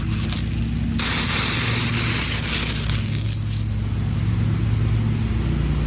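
An in-ground garden sprinkler rotor, fed from a hose spigot, sprays water in a loud, continuous hiss close by, with a steady broad rush and no talking.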